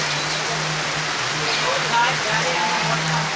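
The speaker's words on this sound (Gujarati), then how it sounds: "અહીંયા વરસાદ પણ પડી રહ્યો છે" Rain falls steadily outdoors, a continuous loud patter and hiss with a low hum underneath, while people talk over it.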